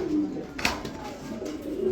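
A pair of Lahori pigeons coo at a pigeon farm, soft low throaty calls rising and falling close by, with faint background noise and no speech.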